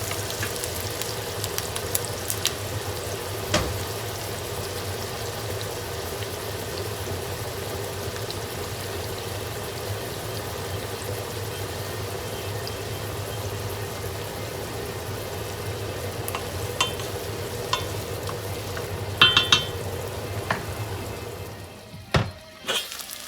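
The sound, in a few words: onions frying in butter and oil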